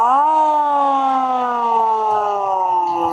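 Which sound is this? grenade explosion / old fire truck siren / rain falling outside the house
old fire truck siren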